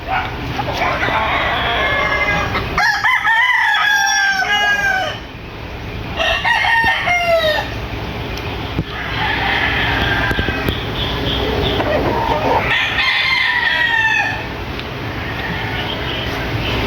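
Pure white Kelso gamefowl roosters and stags crowing repeatedly in a backyard, loud close calls rising and falling over constant background noise, with someone talking between crows.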